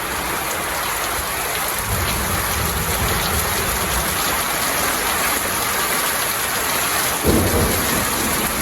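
Heavy rain roars steadily during a thunderstorm in Owasso, with low thunder rumbling beneath and a brief louder burst near the end, loud and close throughout.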